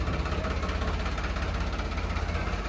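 A tractor engine idles close by in a steady, rumbling, loud chug with a regular low pulsing rhythm, continuous and unchanging with no voices.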